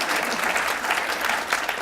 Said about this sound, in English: Thank you for the applause already